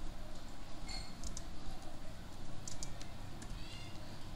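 Typing on a computer keyboard, heard as faint, sparse key clicks spread irregularly over a quiet background.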